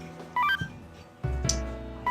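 Phone beeps in the video game Catherine: a short run of tonal electronic bleeps, close and clear, followed by a louder burst of menu sound, with no talking.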